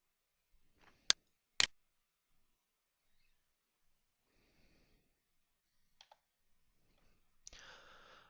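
Two crisp, close computer mouse clicks land half a second apart in an otherwise near-silent room, followed by a few faint, soft handling sounds.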